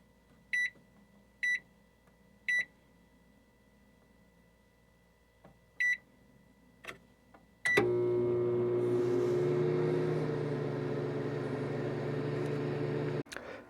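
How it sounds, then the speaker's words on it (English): A microwave oven heating White Castle double cheeseburgers hums steadily for several seconds after a few sharp electronic beeps; the running ends abruptly with a click. "We've had these in the microwave."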